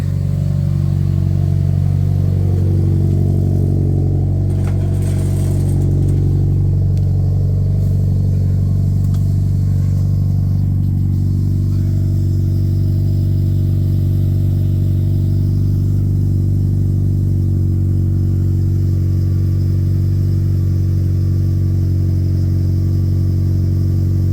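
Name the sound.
Mitsubishi Evo 9 engine running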